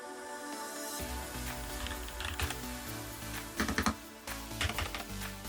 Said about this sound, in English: Keystrokes on this is nice and soft, smooth for a mechanical keyboard.